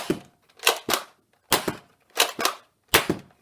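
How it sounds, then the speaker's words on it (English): A Nerf Roundhouse blaster fires Worker Gen 2 foam darts, giving six sharp, close snapping shots in pairs and singles with brief gaps between them, with no talk. "Now, let's see it fire. Alright, first off we're going to use some Worker Gen 2 darts."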